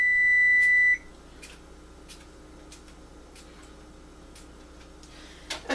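An oven timer being set while chicken goes in to cook: a loud steady beep for about a second, then a string of soft, evenly spaced ticks from the dial mechanism, close by and with no talking.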